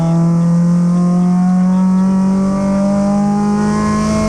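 MG ZR race cars at full throttle in an MG Invited circuit race, their engines holding a loud, steady, close drone with a slight rise in pitch toward the end.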